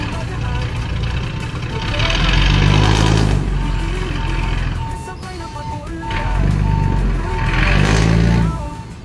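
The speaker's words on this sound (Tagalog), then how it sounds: "Bubuhos na sila nitong mga lupa." A truck reverses and dumps soil at a riverside construction site near a ferry station on the Pasig River, its engine rumbling loudly and swelling twice, with reversing beeps and people talking over the noise.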